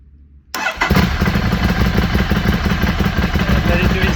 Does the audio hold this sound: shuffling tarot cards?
no